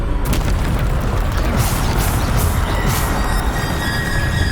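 A Bombarda blast spell in a wizarding video game's Keeper Trial, heard as a loud, sustained booming roar with rumbling low end and crackling bursts layered on top, without a break.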